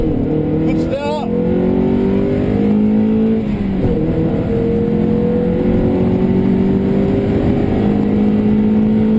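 A Mazda MX-5 Mk2.5 with a 1.8 VVT engine accelerates hard from a standstill with a little wheel spin, its engine note climbing steadily, then dropping briefly for a gear change and rising again, loud and continuous throughout.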